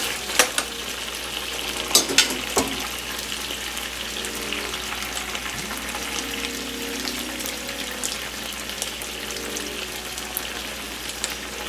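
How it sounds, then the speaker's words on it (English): Chicken with carrot and mixed vegetables sizzles steadily in a pan for a Guyanese chicken chowmein, with a few sharp clanks of a utensil early on over the constant frying hiss. "I'm just going to go in with a little bit more of carrot and the vegetables"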